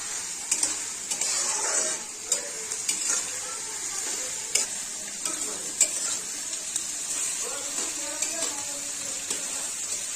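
Onions frying for a chicken curry crackle and hiss in a pan, a bright constant sizzle with repeated scrapes and clinks of a spatula stirring against the metal.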